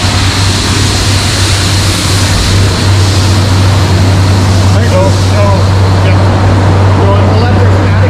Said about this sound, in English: This machine recycles. It's steel shot, goes through a conveyor on the floor, it gets filtered and used again.